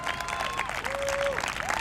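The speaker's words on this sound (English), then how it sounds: "Let's give him a big round of applause." Audience applause at a Right to Know Colorado campaign event, a steady patter of clapping from a crowd, with a voice speaking briefly over it.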